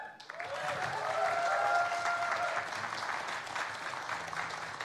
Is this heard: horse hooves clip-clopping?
no